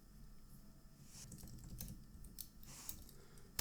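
A computer keyboard clicks as the ssh-keygen command is typed, quiet irregular keystrokes in short bursts with no talking.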